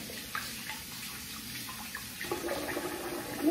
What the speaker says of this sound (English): So I'm gonna rinse the face here.